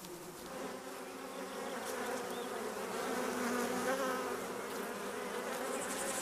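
A dense, steady buzzing of many honeybees inside a hive, fairly soft and continuous.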